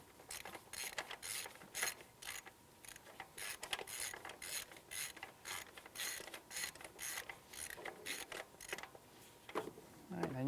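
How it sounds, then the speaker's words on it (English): A ratchet with a swivel attachment and extension clicks in quick, irregular bursts while backing out the engine knock sensor on a 2007-2013 Acura MDX, close-up and crisp, with short pauses between strokes. "just back your sensor right out"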